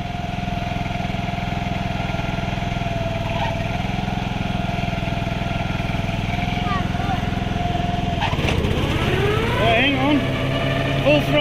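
A Walker riding lawn mower engine runs at a loud, steady idle, then its pitch shifts and rises as the throttle opens, with a voice speaking over the drone.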